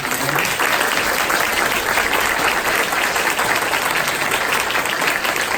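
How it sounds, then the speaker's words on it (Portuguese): Steady, dense applause from an audience at a Brazilian data protection authority (ANPD) debate event, loud and sustained throughout without a break. "Eu queria que vocês, por favor, dessem uma salva de palmas para ela"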